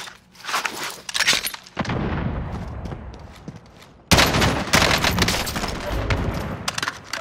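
Gunfire in a shooter video game comes in loud, rapid automatic bursts. A quieter stretch in the middle gives way to heavy, close firing again, with faint footsteps in between.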